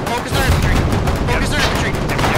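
Dense, continuous gunfire rattles through a Foxhole video game battle as troops shoot at enemy infantry, rapid overlapping shots with machine-gun bursts filling the whole moment, loud and close, with faint voices mixed in.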